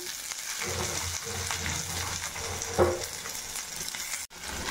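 Chopped garlic, ginger and onion frying in oil on a low flame: a steady moderate sizzle with faint stirring movements and one brief louder scrape, followed by a sharp knock near the end.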